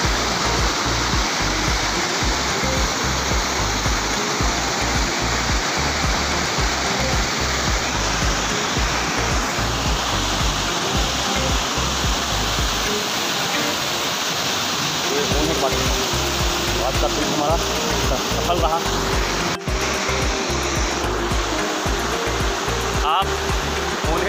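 Honhed waterfall near Keshkal roars in a loud, continuous, broadband rush of falling water heard up close. A faint voice or tonal sound appears briefly partway through.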